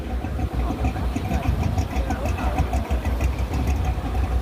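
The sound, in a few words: classic car engine idling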